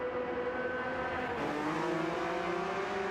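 Porsche Cup race cars drone along the start-finish straight of the Nürburgring GP circuit in a racing video game, steady engine tones shifting pitch as the cars cool their tyres, moderately loud with no talk.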